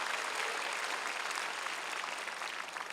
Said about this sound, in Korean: 박수로 하나님께 영광 돌렸습니다